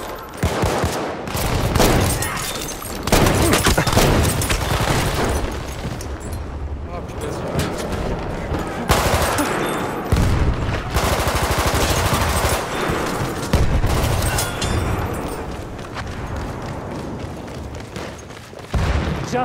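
Rapid machine gun bursts from Battlefield 1 gameplay, loud and sustained, mixed with explosions and battlefield din, with a voice talking over the firing.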